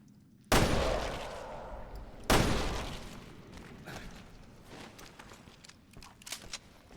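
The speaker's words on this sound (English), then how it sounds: "That is an assault rifle." Two heavy assault rifle blasts in the video game Resident Evil: Revelations 2, each loud with a long decaying tail, followed by quieter footsteps and small clatters.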